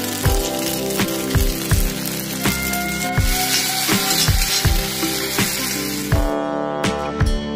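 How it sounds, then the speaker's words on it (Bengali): Carrots and potatoes sizzle in a kadai with a steady frying hiss, cut by a series of sharp, regular metallic clanks from a spatula, close and fairly loud, with no talk. "কড়াইতে একটু গাজর ভেজে নিচ্ছি, আলু ভেজে নিচ্ছি"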